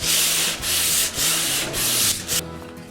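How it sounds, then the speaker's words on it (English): A wooden board sanded with the grain by hand: loud, steady rasping strokes in a repeating back-and-forth rhythm, about five passes, then the sanding stops near the end. "Sanding is always with the grain."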